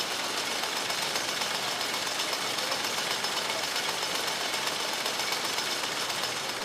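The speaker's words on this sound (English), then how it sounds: "We are observing how the gill pins are moved by the screws." A jute drawing machine runs in a mill, its screws driving the gill pins. The mechanical clatter is dense, loud and unbroken, with no voices.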